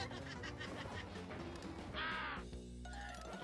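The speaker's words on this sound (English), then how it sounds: "They sound like birds when they die." A bird-like squawking death cry of an enemy in the video game Pac-Man World Re-Pac rises briefly out of a dense, continuous bed of game music and effects.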